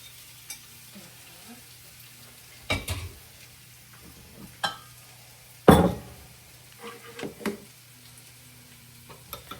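Food frying in a pan, a soft steady sizzle broken by several scraping knocks of a utensil stirring against the pan.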